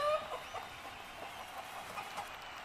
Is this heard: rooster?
yes